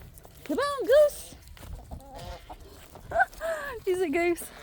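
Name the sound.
chickens clucking at feeding time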